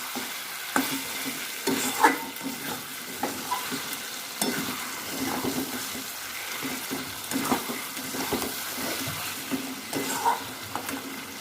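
Ground black pepper being stirred into Begmati chicken frying in a pan, with a steady sizzle under repeated scraping stirs and clinks that come at an uneven rhythm, close up.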